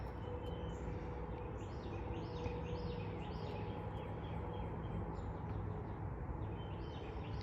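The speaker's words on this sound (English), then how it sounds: "I hear the birds in the background this morning" Faint bird chirps repeat in the distance above a loud, steady broadband hum.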